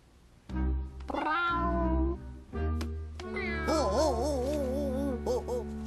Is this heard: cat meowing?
yes